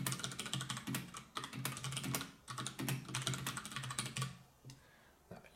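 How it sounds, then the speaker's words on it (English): Fast typing on the mechanical Cherry key switches of a Freewrite Traveler writing device, a dense run of loud, clacky keystrokes close up that tapers off near the end. "These are mechanical keys, and it feels very nice to type on these."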